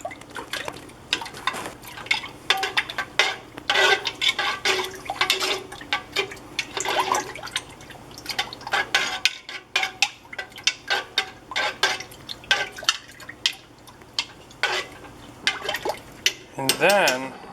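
A dissolved mixture is stirred into milk in a pot while making lime goat cheese, with continuous liquid sloshing and clinking of a utensil against the pot, under intermittent talk.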